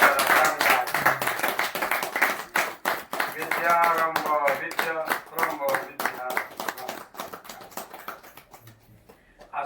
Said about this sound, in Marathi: चला तुम्ही सर्वांनी फुलांचा वर्षाव करा आणि टाळ्यांचा गजर करा यांच्यावर